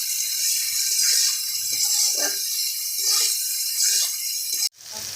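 Chopped potatoes drop into a pan of frying spices with turmeric and set off a loud, close, steady sizzle with bright crackle, which cuts off abruptly near the end and leaves a quieter hiss.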